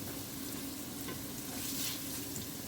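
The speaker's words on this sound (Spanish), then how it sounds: "Vamos a dorar por lo menos un minutito." Steady, close sizzling of rice browning in a pot for Dominican chicken with rice and beans, a dense continuous crackle with faint occasional stirring scrapes.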